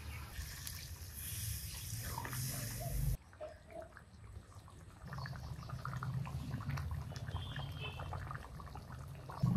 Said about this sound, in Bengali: এখন ঝোলের জল দেব।